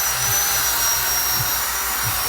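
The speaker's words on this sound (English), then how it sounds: "And then to finish it off, a nice little drill." A power drill fitted with a scrub brush cleans car wheels, giving a steady loud whirring drone with soft low thumps about once a second as the brush presses on the wheel.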